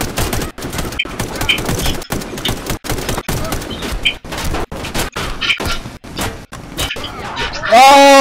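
Rapid, sharp gunfire bursts from a Warface multiplayer shooter on Switch, including sniper shots from a tower, crackling in dense repeated volleys close up, ending with a short tonal game alert.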